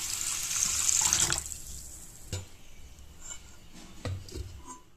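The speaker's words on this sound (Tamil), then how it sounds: "இப்போ இந்த அரிசி நல்லா மூழ்கிற அளவுக்கு தண்ணி ஊற்றி ஒரு 3 to 4 மணி நேரம் ஊற வச்சு எடுத்துக்கோங்க." Water pours from a tap over rice in a bowl to soak it, a steady rushing splash for just over a second that then breaks into a few brief, softer trickles and drips.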